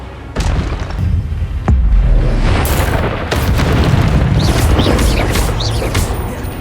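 Spell effects in Hogwarts Legacy, including Expelliarmus, go off as a run of loud booming blasts and sharp bursts. The impacts come close together over a rumbling, crackling game soundscape.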